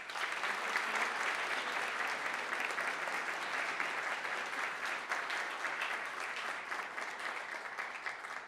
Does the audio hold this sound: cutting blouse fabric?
no